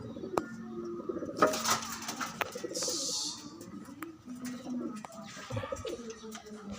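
Pigeons coo on and off at close range amid rustling and clattering, with a brief hiss-like burst partway through and low background activity around a rooftop loft at midday.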